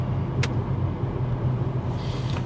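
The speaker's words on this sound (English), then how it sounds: "There's just traffic in front of me" Road traffic heard from inside a car sitting in a queue: a steady low engine and road rumble with a brief sharp hiss of an air brake from a nearby vehicle, muffled and continuous.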